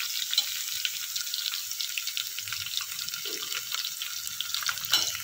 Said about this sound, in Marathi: लसूण आपल्याला तेलात चांगला परतून घ्यायचा आहे